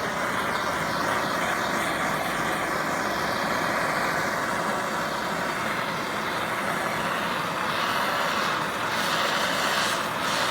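Propane torch with a large nozzle roaring steadily up close as it chars a wood board for a shou sugi ban finish, a continuous broadband hiss with no pauses, no voices.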